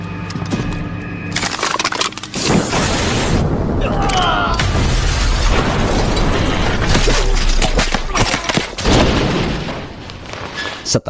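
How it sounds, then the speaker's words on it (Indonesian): A gas-and-nail trap packed into an oven blows up inside a minimarket in a mafia-gang action film scene, a loud booming blast with crashing, shattering debris that rumbles on, mixed with dramatic film sound. "Setelah berhasil meledakkan jebakan dan membuat anak buah bos mafia tumbang, Lei bersama warga sekitar masuk"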